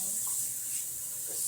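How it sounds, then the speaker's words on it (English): Tap water running into a sink to rinse coffee grounds down, a steady close hiss of flowing water with no breaks over its short span. "Then I just simply rinse the grounds down"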